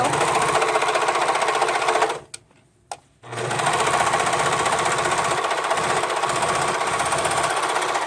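A sewing machine stitches over an elastic band, overlapping the start of the seam; a steady, close motor whir runs throughout, broken by a brief pause near the middle before stitching resumes.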